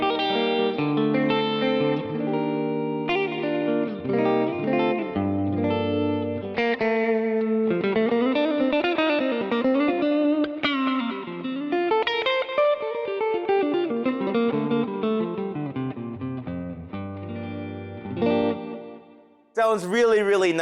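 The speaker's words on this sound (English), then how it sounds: "Going to the second loop, we have the delay and the reverb." An electric guitar plays a melodic lead through a loop switcher with delay and reverb, notes echoing and trailing into each other, loud and continuous.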